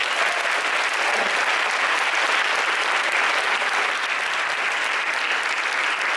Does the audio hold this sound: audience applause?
yes